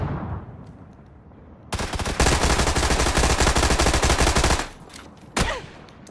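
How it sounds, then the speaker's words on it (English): Sustained burst of automatic gunfire in PUBG, loud and dense for about three seconds, followed by a single sharp shot after a short pause, with no talk over it. "Shooting back at him."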